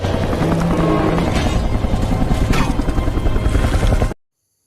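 A loud, steady helicopter rotor and engine roar, thick with low rumble and chopping pulses, sustained throughout before cutting off abruptly.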